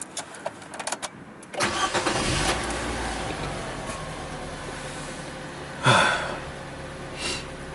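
A Nissan Juke, thought to have a 1.6 engine, cranks and fires up, then settles into a steady idle with a brief rev around the middle, recorded close with no talking.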